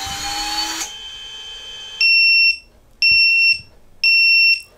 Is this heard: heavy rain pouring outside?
no